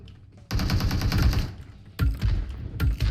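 Loud, close PUBG Mobile automatic gunfire in three rapid bursts, the first lasting about a second, then two shorter volleys following after brief pauses, with no speech over it.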